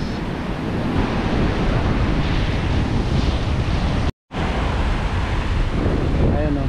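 Heavy surf roars continuously, loud and close, on a beach in Buruanga, Aklan, Philippines, with wind buffeting the microphone and a brief dropout partway through.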